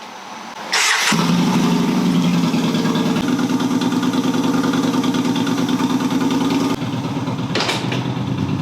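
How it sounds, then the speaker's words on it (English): A Yamaha Bolt motorcycle engine cranks and catches after a second, then settles into a steady, loud, close idle with a throbbing low rumble, a brief higher burst near the end. "you got to start the bike."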